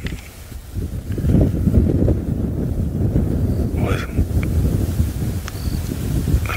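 Steady wind rushes across an open African savanna in the Masai Mara, buffeting the microphone with a loud, continuous low roar throughout, with faint animal calls briefly rising above it.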